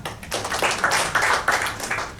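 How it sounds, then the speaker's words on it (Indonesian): A church congregation applauds together, a dense close burst of clapping that swells and fades over a couple of seconds. "Tepuk tangan buat Tuhan dulu."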